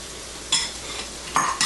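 Diced onion sizzles in a hot pan for carrot soup, a steady frying hiss with bursts as the pieces are stirred, close and alone.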